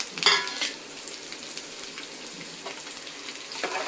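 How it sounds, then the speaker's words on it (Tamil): Ginger and small shallots sizzle in hot oil in a pan for a chicken curry, with a sharp clatter of stirring near the start and again at the end. "இந்த எண்ணெயிலே இது நல்லா வதங்கட்டும்"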